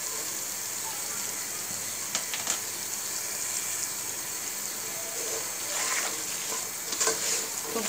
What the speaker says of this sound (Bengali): টমেটো, সিম এবং আলু সবগুলো একবারে একটু কষিয়ে নিচ্ছি।